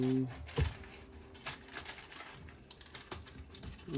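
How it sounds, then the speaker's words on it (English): Aluminum foil pulled through a bamboo wrap dispenser, giving faint, close crinkling and scattered tearing clicks at an uneven pace over a quiet background. "And then run the foil through"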